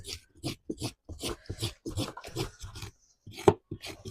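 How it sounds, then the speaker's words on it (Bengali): Coconut being scraped by hand for Shab-e-Barat halwa, a series of close, rhythmic rasping strokes with brief pauses between them, one sharper scrape near the end. "হালুয়া দেওয়ার জন্য এবার আমি নারকেলটা কুড়ে নেবো"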